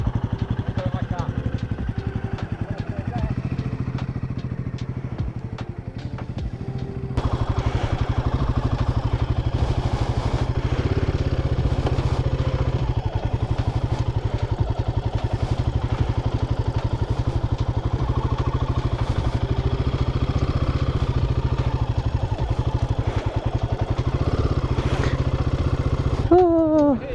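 Motorbike ridden slowly along an unpaved green lane, its engine a steady mid-pitched drone with clattering over rough ground, close and continuous, getting louder partway through, while a rider talks over it.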